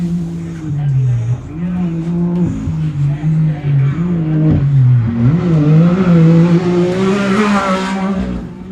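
A UTV Unlimited race vehicle at the 2025 High Desert 100 in Powell, Wyoming crosses the start-finish line, its engine droning loud and steady with rising and falling revs throughout.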